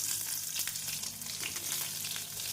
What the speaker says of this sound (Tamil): நறுக்கிய வெங்காயத்தை சேர்த்து விடலாம்.